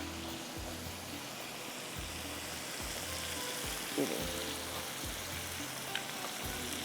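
Achari and karahi masala with a little salt frying in a karahi, a steady soft sizzle under a low rhythmic thumping hum, with a brief clink of a utensil.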